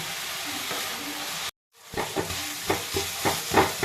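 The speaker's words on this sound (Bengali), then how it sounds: "এই সময় একটু হাতা দিয়ে এরকম করে দিলে ভালো হয়" Radish curry with lentil dumplings being stirred and mashed with a metal ladle in a pot, steady sizzling broken by a short silence, then rhythmic scraping strokes pressing through the thick mixture, close and fairly loud.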